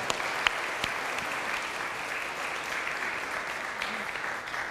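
A church congregation claps steadily in a hand clap of praise at the close of a traditional worship service, a dense, even wash of applause with no voices.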